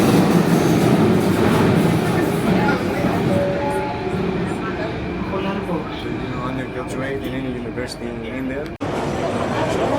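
Riding inside an Athens metro train: a loud, constant rumble with rattling and rhythmic wheel clatter, voices murmuring in the carriage throughout.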